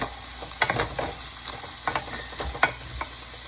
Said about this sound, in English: So I'm going to give it just a little bit more stir.